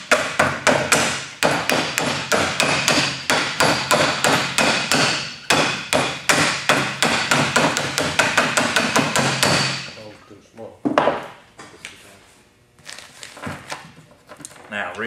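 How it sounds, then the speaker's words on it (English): A hammer taps lightly and quickly in an even rhythm for several seconds nearby, seating a port from a reliner kit, then slows to a few scattered knocks. "You may have to take a hammer here and, and lightly tap it in all the way around."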